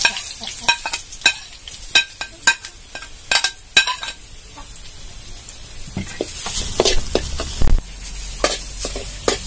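Crushed spice paste hitting hot oil with dried red chillies and curry leaves brings a string of sharp utensil taps and clinks, then a rising, crackling sizzle as it fries and gets stirred in a village kitchen.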